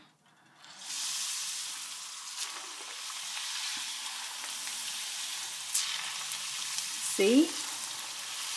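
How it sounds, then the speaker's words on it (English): Puri dough frying in hot oil, a loud, even crackling sizzle that surges up after a quiet start and holds steady, with a few brief utensil clicks and a short spoken word near the end. "I'm going to fry this machine one."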